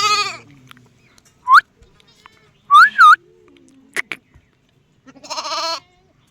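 Gaddi sheep and young lambs penned together in the Himalayas bleat in close, loud bursts, a cluster of separate calls, some doubled, spread across a few seconds with quiet gaps between.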